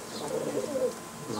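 Pigeons at a kabootar baazi loft in Jeddah give short, soft coos close by, a brief burst of throaty calls with faint background noise.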